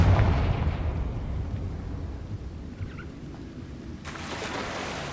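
Confringo fire spell explosions in the Hogwarts Legacy video game: a heavy, booming blast opens into a dense low rumble that rolls on and fades, followed by a fresh crackling burst near the end.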